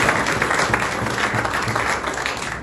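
A crowd applauds steadily and densely at a Haitian political declaration, with the clapping dense and continuous throughout, close and loud.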